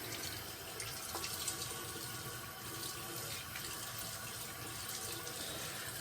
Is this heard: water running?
yes